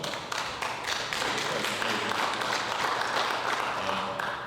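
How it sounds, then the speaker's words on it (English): A small audience at a 1 Million Cups business pitch event at Delaware Tech claps for a few seconds, moderately loud and uneven, with a little murmur underneath. "let's give a round of applause"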